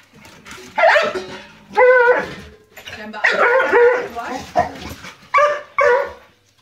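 A dog whimpers and yips in short bursts, close by, mixed with a person's speech.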